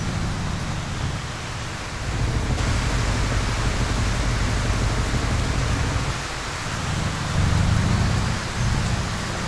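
Steady rain hisses down in the Euro Truck Simulator 2 truck-driving game at night on a gravel road, a broad, even wash of noise that continues throughout with a slight swell near the end.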